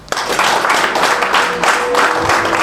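An audience claps together in a dense, continuous burst of applause that lasts a few seconds at fairly high loudness.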